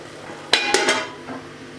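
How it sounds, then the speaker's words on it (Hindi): A spoon stirring chana pulao in a pot makes three quick metallic knocks in close succession, then a softer scrape, over a faint background hiss. "अब मैं चम्मच चला दूँगी"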